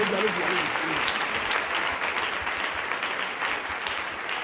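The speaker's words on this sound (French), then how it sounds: "nous continuons d'acclamer le Seigneur" A church congregation applauds steadily during a bishop's investiture, a dense, continuous wash of clapping from many hands that holds its level throughout, with a few voices faintly mixed in beneath.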